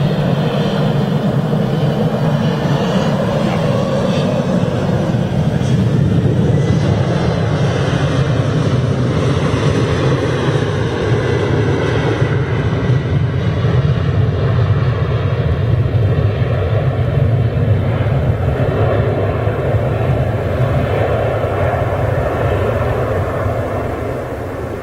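Finnair Embraer 190 jet at Manchester Airport, a steady, loud engine roar with a whining hum that holds evenly throughout and fades only slightly at the end, with no talking.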